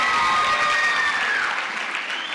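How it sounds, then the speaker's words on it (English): A crowd at an award ceremony applauds steadily, a warm wash of clapping that fades slightly toward the end. "another round of applause for Professor Ratemo"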